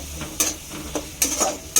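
Turmeric and chili powder being stirred in a frying pan over low flame, with quick scraping strokes of a utensil against the pan over a soft background sizzle.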